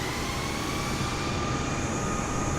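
An aircraft taxiing down a runway at Dallas/Fort Worth in Microsoft Flight Simulator 2020, a steady droning engine hum with a faint whine, constant and unbroken throughout.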